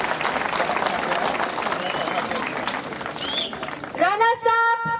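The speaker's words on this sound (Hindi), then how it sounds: "जोरदार तालियां" Audience applause at a pharmacy college event in India: dense, steady clapping and crowd noise throughout, loud and close, ending with a brief tonal musical sting.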